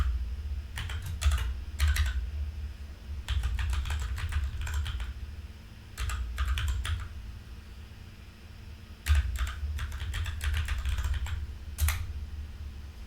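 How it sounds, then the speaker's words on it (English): Bursts of typing on a computer keyboard, clusters of quick key clicks separated by short pauses, fairly close, over a steady low hum of room noise; no talking. "I apparently have to type it out."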